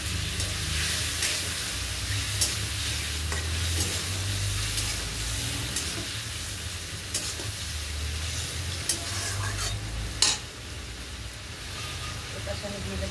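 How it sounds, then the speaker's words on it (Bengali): Spice paste with tomato and a splash of water sizzling and frying in a pan while being stirred, a steady close hiss with occasional scraping stirs, and a voice speaking over it. "এবার দিয়ে দিলাম টমেটো। সামান্য জল দিয়ে দিই, কেননা মশলাটা পুড়ে যাবে না"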